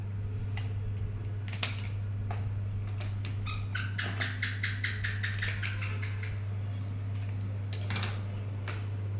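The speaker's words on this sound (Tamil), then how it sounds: "இப்போது இந்த சைடெல்லாம் கட் பண்ணிடும் சிசரில்" Scissors snip along the sides of a live green crab during cleaning, giving a run of small metallic clicks and crisp cuts over a steady low hum, close up and with no talking.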